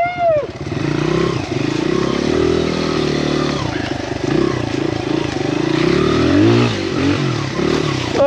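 Honda XR100 dirt bike ridden along a snowy enduro trail, its small single-cylinder engine revving up and down close by with clattering over rough ground and occasional voices over the engine.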